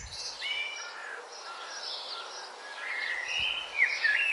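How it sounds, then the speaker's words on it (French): Several birds chirp and twitter outdoors, bright overlapping calls at moderate distance with no voices. "On vient d'entendre le gazouillis des oiseaux."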